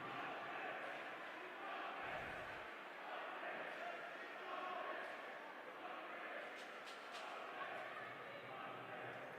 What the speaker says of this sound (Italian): Meno numerosi i tifosi rossoblu, ma comunque non fanno mancare l'incitamento